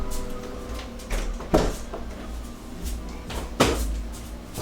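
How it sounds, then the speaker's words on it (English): Several doors thudding shut one after another in a room, with a couple of sharper knocks standing out over a busy, reverberant background of faint chatter. "I will close the doors for you"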